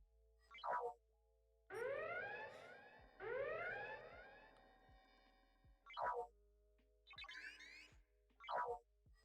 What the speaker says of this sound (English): I swear Shadow's got a timer sitting on his desk and he's putting it for every 15 minutes